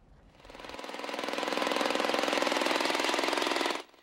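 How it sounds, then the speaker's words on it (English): An ice auger's small engine revs up in bitter cold at an ice fishing derby, building into a loud, rapidly pulsing rattle, holds steady for a few seconds, then abruptly drops away. "Revving up the ice auger and setting lures, both sights and sounds of a traditional ice fishing derby."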